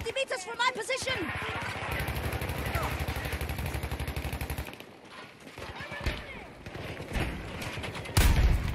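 Rapid automatic gunfire in a video game, sustained bursts of close, loud shots with a fast regular rhythm, followed by scattered single shots and game effects.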